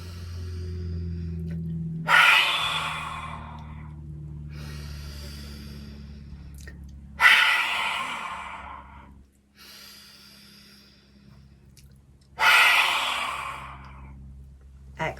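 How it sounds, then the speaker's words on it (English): Three loud, noisy exhales pushed out through the mouth with the tongue stuck out, lion's-breath style in a yoga breathing session, each a sharp burst that fades, spaced about five seconds apart with quiet breathing and low hum between. "a nice noisy exhale out through the mouth whilst we stick our tongue out as far as we possibly can"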